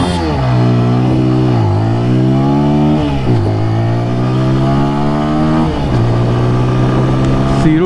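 A TVS Apache RTR 200 4V motorcycle pulls hard through its gears in an acceleration run, loud and close, its engine note climbing repeatedly and dropping briefly at each of several upshifts.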